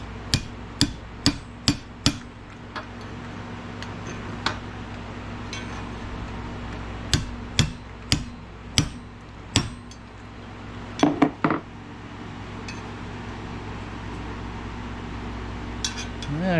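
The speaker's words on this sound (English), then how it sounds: "I'm going to tap on it with a punch and see if it'll move any" A hammer taps a metal punch against a straw fork during restoration, giving sharp, ringing metallic strikes in irregular bursts and clusters close by, separated by quiet pauses, with no speech.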